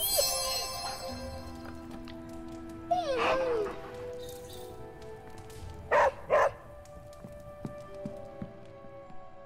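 A dog in the video game Midnight Suns barks a few times, with a short bark early and a quick double bark later, over steady game ambience and occasional speech.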